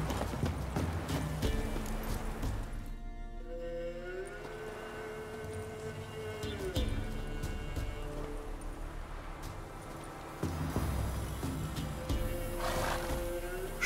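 Horses clop and neigh in a video game village scene, steady hoofbeats with a drawn-out whinny rising midway, heard over ambient game sound and music.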